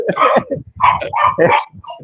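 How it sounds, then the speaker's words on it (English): A small dog barks loudly and close, giving a quick run of high, yappy barks with short gaps between them and a faint whimpering edge. "he runs around in a circle and barks until it happens"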